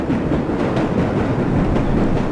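A subway train rumbles along in World of Subways 4, a dense, steady roar with faint rhythmic clatter, close and loud throughout.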